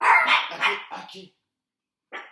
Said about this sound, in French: Il y a un chien qui jappe dehors, donc mes chiens entendent le chien.